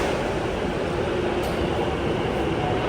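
An Ahmedabad metro train pulls into the station with a loud, steady, broadband rumble and roar that fills the whole stretch without letting up.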